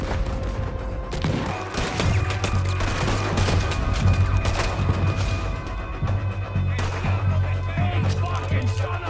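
Sustained gunfire fills a Red Dead Redemption 2 firefight, with rapid overlapping shots, heavier booms and crashes over a low rumbling bed, loud and continuous with brief shouted voices.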